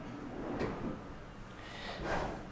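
A drawer in a bathroom of an overwater villa at Soneva Fushi in the Maldives slides open or shut, making two soft, brief rumbling scrapes about a second and a half apart in a quiet room.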